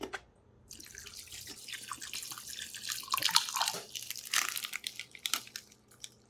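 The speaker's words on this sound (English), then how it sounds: "Spraying water." Water sprays from a faucet over sea moss being rinsed in a sink, a splashing, hissing stream that swells and wavers in loudness with wet crunchy handling sounds and no talking.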